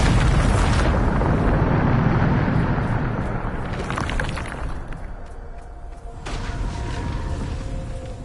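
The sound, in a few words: Bombarda spell explosion from the video game Hogwarts Legacy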